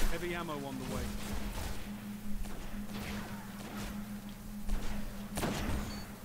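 Gunfire from the Destiny shooter game, scattered sharp shots and thuds popping over a steady hum, with a player talking through much of it.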